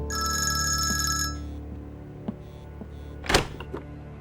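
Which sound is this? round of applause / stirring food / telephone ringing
telephone ringing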